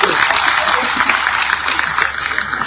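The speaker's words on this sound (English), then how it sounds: "Please clap for me." Audience applause at a formal leadership event attended by the president of Sierra Leone: steady, dense clapping from a large crowd, loud and continuous throughout.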